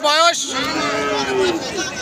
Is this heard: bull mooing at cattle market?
yes